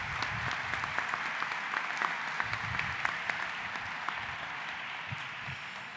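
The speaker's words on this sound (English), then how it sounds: "He deserves a round of applause." Audience at an awards event applauding, a steady, moderately distant wash of clapping that holds evenly for several seconds.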